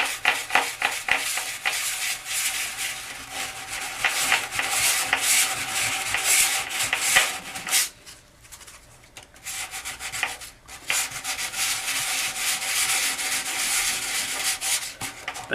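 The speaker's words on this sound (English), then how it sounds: "I have to do more sanding to get it flat." Steady rubbing strokes of sandpaper on a cured suncure resin surface being sanded flat, loud and close with a brief pause midway, and no voices.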